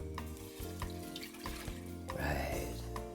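A cup and a half of water poured into a pot for homemade lime syrup with juniper berries, a steady close splashing stream with a brief gurgling swell near the end, fairly quiet.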